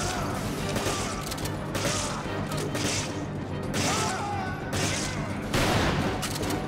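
Rapid bursts of gunfire in Resident Evil 5's Desperate Escape, repeated volleys over several seconds, loud and close, with a voice talking briefly.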